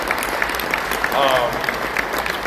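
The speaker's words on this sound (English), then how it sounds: "could you please give the marketing team, the AV team, all the people that put this event together a big round of applause" An audience at a live panel event applauds with a steady wash of clapping throughout, while a voice talks over it for a moment.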